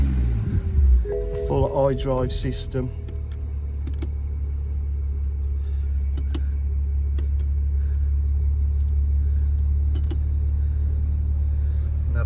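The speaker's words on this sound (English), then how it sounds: "Start the car." A BMW 330i M Sport 3.0 petrol coupe with automatic gearbox starts up close, a brief cranking burst settling into a steady low idle rumble that holds to the end while someone talks over it.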